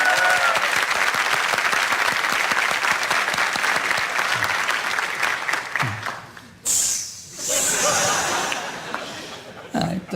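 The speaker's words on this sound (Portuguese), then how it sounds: "Que em Fortaleza o pessoal aplaude assim no meio do espetáculo." A studio audience applauds loudly and steadily at a televised talk show in Brazil, breaking into applause mid-performance. The dense clapping fills most of the stretch, dips briefly, then returns full before tapering.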